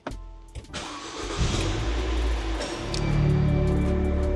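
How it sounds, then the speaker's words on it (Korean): A Renault Korea XM3 with a 1.6 engine cranks and starts up close, a short starter whir followed by the engine catching, briefly revving, then settling into a steady, loud idle. "시동을 한번 걸어 보겠습니다."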